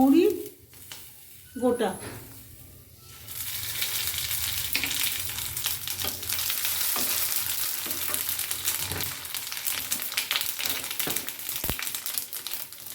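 Dry red chillies, bay leaf, radhuni and fennel seeds frying in hot oil for Bengali shukto, a steady close sizzle after a few seconds of handling sounds, with scattered stirring clicks and a brief spoken word early on.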